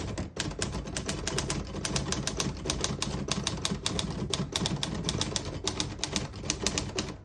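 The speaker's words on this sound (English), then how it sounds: "As you can see, all the keys type nice and none of them skip or stick. I'll type a sentence on this next line." Keys on a 1950 Olivetti Lettera 22 portable typewriter strike in a fast, continuous run of sharp, close clacks, each letter a distinct crisp snap with no voices.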